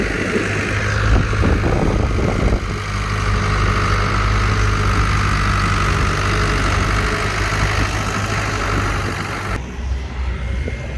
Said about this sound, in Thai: เดี๋ยวให้รถไถ ไอ เคลียร์พื้นที่ก่อนครับ